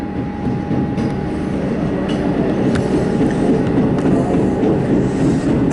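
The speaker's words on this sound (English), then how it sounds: "Sounds like the flange is flat on this train." Melbourne metro train running with a flat spot on the wheel flange, a steady loud rolling roar with faint rhythmic knocks and clicks throughout.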